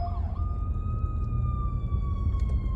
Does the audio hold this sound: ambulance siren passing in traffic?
yes